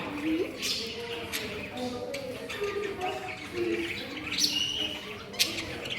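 Pigeons coo softly among scattered chirps at moderate distance in an indoor zoo at an entertainment centre in Lviv, with faint voices in the background.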